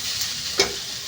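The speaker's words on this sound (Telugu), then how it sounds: "ఒకసారి ఫ్రై చేసేసుకుందాం" Potatoes fry in a pan with salt, giving a constant close sizzle with a single brief scrape of a spoon partway through.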